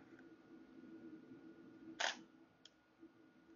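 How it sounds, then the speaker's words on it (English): An antique film camera's shutter fires with one sharp, crisp mechanical click, followed by a much softer tick about half a second later, close up in a quiet room with a low background hum. "And you'll notice when I click the shutter button,"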